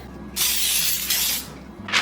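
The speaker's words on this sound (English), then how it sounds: "I'm gonna spray a little bit of my Baker's Joy on it" Baker's Joy baking spray hissing onto a jelly pan in a home kitchen: a steady burst of spray lasting about a second, then a short second spurt, close and loud with no talk over it.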